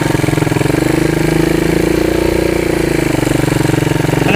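A Honda CT200 motorcycle engine labors up an uphill dirt trail, a steady, close, throbbing drone that holds an even pitch with a slight swell in the middle and no voices over it.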